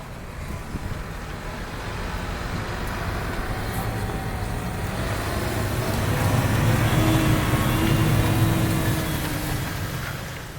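A tractor-drawn disc machine works a dense cover crop field at speed, giving a steady loud engine drone and rumble of soil and vegetation, growing somewhat louder midway, with wind noise and no talk.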